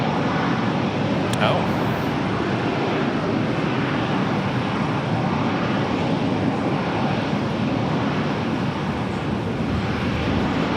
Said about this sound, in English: We have a Dassault Falcon about to touch down here.